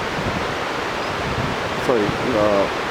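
The Hanuman Ganga river rushes in a steady broadband roar as it flows into the Yamuna in cold mountain country, with brief voices near the end.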